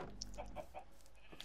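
Chickens in a video game cluck in a few quiet, scattered clucks, faint and slightly distant against a low background hum.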